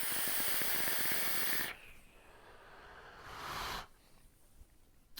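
Airy hiss of a vaper drawing through a Vandy Vape Pulse 22 BF squonk RDA with its airflow closed down to one hole, a loud steady pull, a quieter pause, then a second shorter draw before fading.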